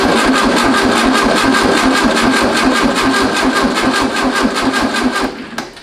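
Engine of a VW trike fitted with tracks cranks and catches, running with a loud, fast rhythmic chug up close before cutting off abruptly near the end.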